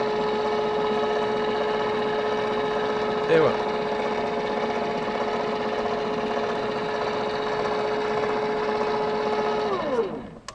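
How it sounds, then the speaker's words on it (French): A submerged MIT1210/3210 tubular motor runs with a steady, tonal electric whine and hum that holds evenly for about ten seconds, a brief click near the start, then winds down and stops; a voice speaks briefly at the end. "On fait tourner le moteur."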